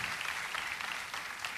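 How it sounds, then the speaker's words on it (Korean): Audience applause at a 2006 DGMBC teleconcert follows a romantic autumn piece by Hirotaka Izumi, a steady, fairly quiet wash of clapping lasting the whole moment with no voices over it. "박수 한번 주세요."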